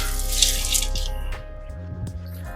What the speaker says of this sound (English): And we're just gonna put this whole can of stock.